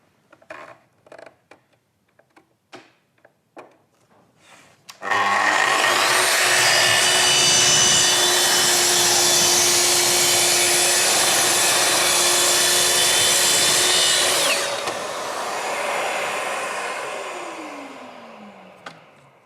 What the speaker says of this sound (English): for chipboard that's veneered, then we're going to set it on speed 5, and we can make a nice, consistent, easy progress through the cut